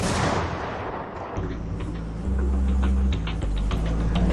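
A loud, broadband blast from an RBS-70 missile launch during a Swedish army live-fire exercise opens the clip, fading over about a second into a steady, heavy low rumble that continues to the end, with no voices.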